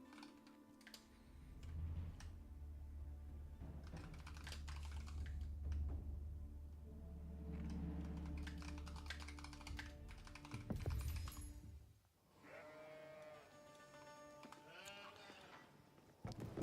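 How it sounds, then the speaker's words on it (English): Typing on a computer keyboard during an Age of Empires tournament broadcast: soft, rapid key clicks run quietly under game sounds, including sheep bleating. "Sorry, I'm just typing up the other title there."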